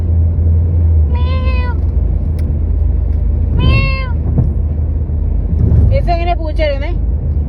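A cat meows several times, with short separate calls near the start, middle and end, over a steady low rumble of nearby road traffic.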